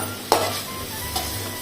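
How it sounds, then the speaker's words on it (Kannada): Washed sesame seeds go into a hot pan to roast and are stirred, heard as a sudden scraping sizzle followed by a softer second stir under a faint steady hiss. "ಅದೇ ಕಾದ ಬಾಣಲೆಗೆ ಎಳ್ಳನ್ನು ಹಾಕ್ತಾ ಇದ್ದೇನೆ"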